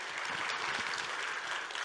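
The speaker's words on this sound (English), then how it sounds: "let's give them a round of applause" An audience at a cybersecurity keynote gives steady, sustained applause for scholarship recipients, a dense continuous clatter of many hands with no speech over it.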